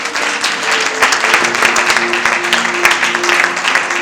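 A church congregation applauds to acclaim the Lord during a service, dense, loud sustained clapping from many hands with voices mixed in.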